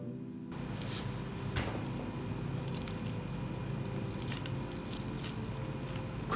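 Someone bites into crispy-skinned teriyaki chicken, with a few soft, crunchy bites heard faintly beneath steady background music.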